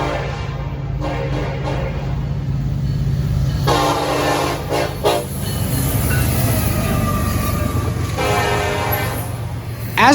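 A train rumbles past steadily in Millbury, Ohio while its horn sounds in several long blasts, loud and close, with wheel noise underneath.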